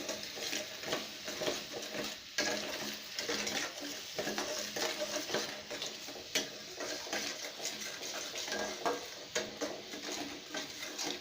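Pumpkin and paneer curry with garam masala being stirred in a pan, with steady scraping and clinking of a utensil against the pan over a soft sizzle, close and continuous with no talking.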